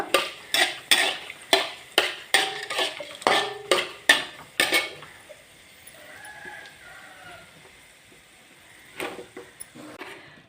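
Coriander seeds roasting in oil in a pan, stirred with a spoon that scrapes and clacks against the metal in a quick, regular rhythm before settling into a quiet low sizzle, with a few more scrapes near the end.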